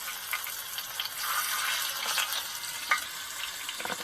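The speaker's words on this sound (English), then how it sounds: "Oh, there's the sizzle." Catfish frying in bacon grease on a boat's galley stove, a steady close hiss of sizzling oil with brief crackles and pops, heard alone without talk.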